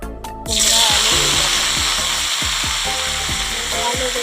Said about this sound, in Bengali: একটু ভাজবো দেখো ফোড়ন দিয়েছি তেজপাতা লঙ্কা আর পাঁচ ফোড়ন এবারে সবজিগুলো দিয়ে দিবি